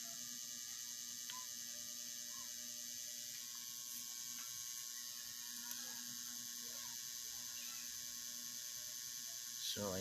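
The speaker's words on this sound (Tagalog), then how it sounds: "siya lang ang naka-plug, yung ating aircon" A window-type air conditioner on high cool at a 16 setting runs with a steady mechanical hum and whir, a constant drone with faint rattling ticks throughout, until a brief louder knock near the end.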